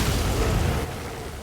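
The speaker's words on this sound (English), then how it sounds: "I stood back from the explosion, but apparently not far enough." Explosion in the video game Rogue Trader, a loud booming blast with a dense rumbling body that cuts off abruptly and drops to a quieter fading tail.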